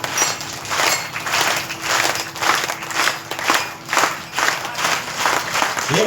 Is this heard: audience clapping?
yes